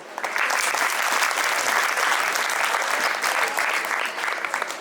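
Strong, sustained applause from a gathered audience at a school graduation ceremony honouring a Swami, dense and loud throughout before thinning slightly at the end.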